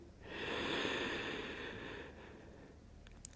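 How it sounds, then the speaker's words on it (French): Slow, deep breath during a pilates exercise, a long airy exhale held steadily for a few seconds and then fading, close and fairly quiet with no talking. "On fait 3 respirations ici."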